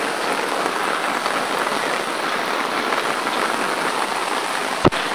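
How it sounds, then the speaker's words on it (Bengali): Steady rain falls on a village, dripping heavily from trees in a dense, even patter close by, with one sharp knock near the end. "এই যে দেখেন কত বড় বড় ফুটা পড়তেছে, গাছের থেকে পানি টপ টপ করে পড়তেছে"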